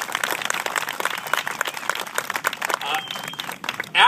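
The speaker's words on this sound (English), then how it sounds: "So everybody here deserves a round of applause, frankly, for showing up." A gathered crowd claps for the people who turned out for an event about election integrity laws, steady applause running for several seconds and fading near the end.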